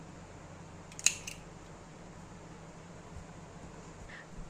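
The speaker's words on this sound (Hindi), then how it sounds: "ऊन को काट कर अलग कर देती हूँ।" One short, crisp snip of scissors cutting through wool yarn while finishing knitted baby booties, quiet and close against a steady low background hum, with a faint second snip following soon after.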